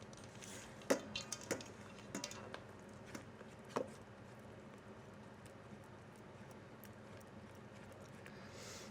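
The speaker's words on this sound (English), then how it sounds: "Okay, and then we're gonna mix this together" Cheesecake filling is mixed in a bowl, with soft sporadic clinks and taps of a utensil against the bowl over a quiet scraping background, sharper knocks clustered early on and fainter stirring afterward.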